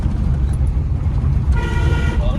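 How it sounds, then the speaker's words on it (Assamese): A car horn sounds in a short steady blast with faint repeating tones, heard near and inside over a constant low engine and road rumble from a car driven through traffic. "হৰ্ণটো বঢ়িয়া আছে"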